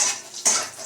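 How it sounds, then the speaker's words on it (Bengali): Peanuts frying in oil that was reused from frying luchi, a short bright sizzle with a sharp clink of a utensil against the pan midway. "বাদামগুলোকে ভেজে নিচ্ছি।"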